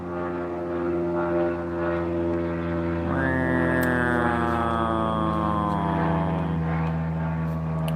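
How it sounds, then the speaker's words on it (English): Seaplane flying past outdoors, a propeller engine drone that rises and shifts in pitch as it passes, fairly loud and steady over the whole stretch. "Oh, there's that same seaplane."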